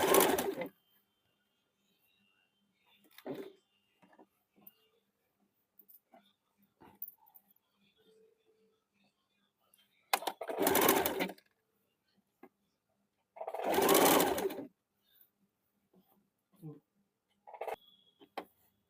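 Sewing machine stitching the rounded seam of a gents short kurta, heard in a few loud bursts of rapid mechanical whirring separated by pauses and small handling clicks.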